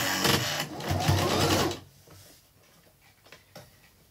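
Sewing machine running up a seam on recycled towels, a loud rapid stitching burst for under two seconds, then it stops, leaving soft clicks and handling noises.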